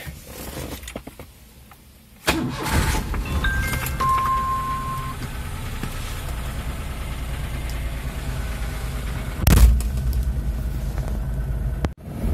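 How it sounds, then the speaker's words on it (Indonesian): A Daihatsu Ceria car engine starting: quiet at first, then a sudden crank and catch into a steady, close idle rumble, with a brief louder bump near the end. "Kita nyalain dulu mesinnya ya."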